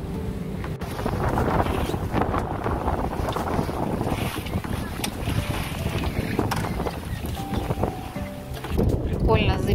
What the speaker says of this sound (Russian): Ветер почти встречный.